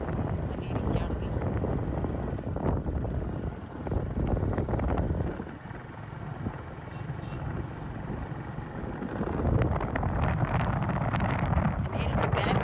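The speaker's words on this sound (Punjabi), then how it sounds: "ਹਨੇਰੀ ਤਾਂ ਆ ਗਈ ਹੈ ਸਾਡੇ ਕੋਲ" A strong windstorm rushing through a village park, heard as heavy, gusting wind buffeting the microphone, with a brief lull midway before the roar builds again; voices are faintly audible under the noise.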